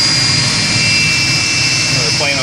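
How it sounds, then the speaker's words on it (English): An aircraft jet engine running after an air start at an airport gives a loud, steady roar with a high, sustained whine, and a faint tone rises briefly toward the end. "so he spooled it back, so that was a good engine start"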